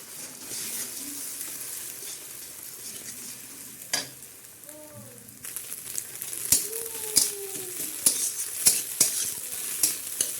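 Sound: beaten eggs frying in hot oil

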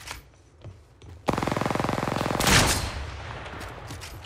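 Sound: enemy gunfire in the Apex Legends video game

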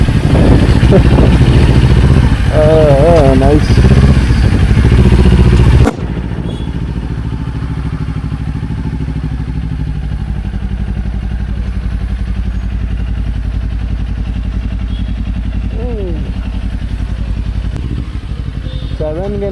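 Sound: motorcycle engine starting and idling

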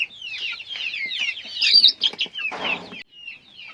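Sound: chickens clucking in a village poultry shed

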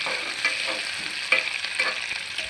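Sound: vegetables for veg biryani being stirred and fried

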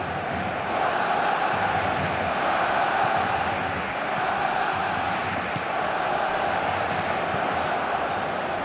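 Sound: stadium crowd cheering in the video game PES 2018

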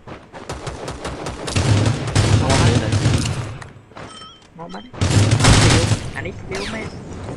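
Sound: gunfire in Rules of Survival video game

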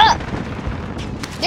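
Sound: grenade explosion in Call of Duty Modern Warfare video game

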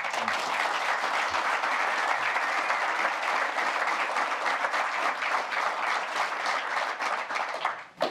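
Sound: audience applause for a panel

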